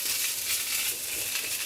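Mushrooms stir-fried in oil in a wok, a faint hiss and crinkly sizzle with soft scraping as they are stirred, brief and quiet with no talking.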